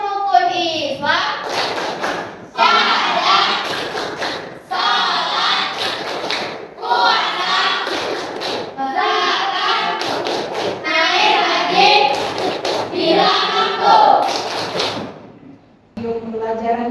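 A class of junior high pupils performing the rukun Islam clapping chant, with rhythmic group claps and slaps under continuous loud children's chanting voices, steady and energetic throughout.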